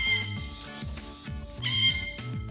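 A cat-shaped eraser toy lets out repeated electronic meows as it is pressed over and over, each squeaky mew close and loud in a steady rhythm with no talking.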